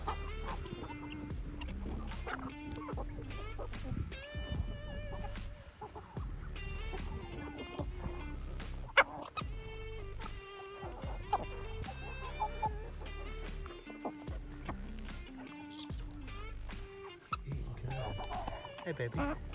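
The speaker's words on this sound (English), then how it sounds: "Show you some of our chickens and turkeys here, and I'll show you them eating" Backyard chickens and turkeys cluck and gobble while eating feed, a busy mix of clucks and calls near the listener, with someone talking over the flock for much of the time.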